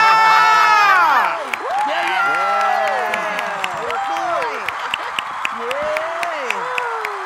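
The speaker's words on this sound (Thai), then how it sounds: "ขอเสียงปรบมือกับคุณอันขวัญวรัญญา" Loud, sustained applause and cheering from a TV studio audience as a singer is unmasked on The Mask Luk Thai, with whoops and gliding voices over the steady clapping.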